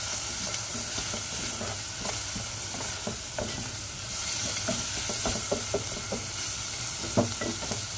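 Sautéed onions and grated carrot are stirred around a hot pan, a steady sizzle broken by repeated scraping and clinking strokes close by, with no voices.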